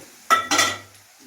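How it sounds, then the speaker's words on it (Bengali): Marinated meat drops into a hot cooking pan in a village kitchen, two quick clattering impacts followed by a brief sizzle that fades, close and fairly loud with no talking. "মাংসটা এবারে দিয়ে দেবো"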